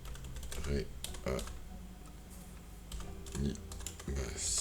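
Computer keyboard typing while entering a command in GeoGebra software: several bursts of quick key taps, close and moderately loud, with no talking.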